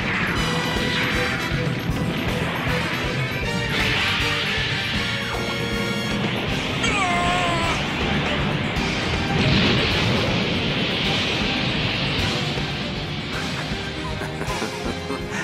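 Anime beam rifle shot from the Wing Gundam blasting two Aries mobile suits, heard as a dense, loud, sustained crashing roar of explosions layered with a bright whine and continuous mechanical rumble.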